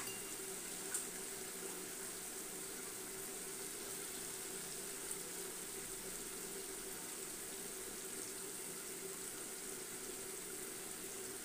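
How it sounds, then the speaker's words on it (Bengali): Mustard water pours steadily into a pan of fish curry already seasoned with green chillies, turmeric and salt, making a continuous close rushing wash of liquid with no talking. "সর্ষের জলটা দেবো আর কি।"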